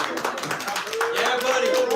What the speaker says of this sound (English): He loves people clapping.